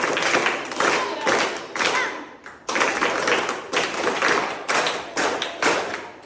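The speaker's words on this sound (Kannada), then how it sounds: "ಅವ್ರ ಫ್ಯಾಮಿಲಿಗೋಸ್ಕರ ಒಂದು ಚಪ್ಪಾಳೆ ಕೊಡಿ" A crowd of people claps for a family in several bursts of applause, each loud spell of clapping separated by brief pauses.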